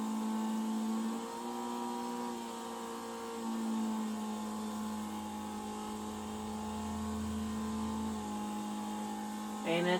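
In the video game GTA 5, a normal car converted into a race car idles and revs with a steady tonal engine drone that shifts pitch a few times, loud and close, ending in a short burst.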